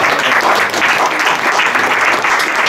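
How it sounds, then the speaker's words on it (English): Loud, steady applause from a satsang audience for Bhaktimarg Swami in Brampton, a dense wash of many hands clapping continuously with no talk over it. "a big round of applause to Bhaktimarg Swami"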